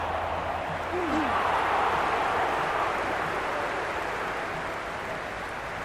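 Dense stadium crowd roaring and cheering at a T20 cricket match between India and Sri Lanka in Trivandrum, a steady loud wash of noise throughout with no clear pauses.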